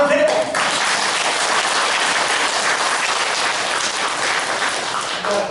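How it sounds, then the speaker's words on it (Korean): An audience at a Buddhist temple ceremony applauds, with dense, sustained clapping filling the room for the whole stretch. "박수 드려"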